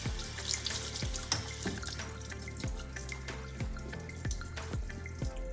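Cold tap water running over oats in a sink, a steady close stream broken by repeated splashy drips at an uneven rhythm.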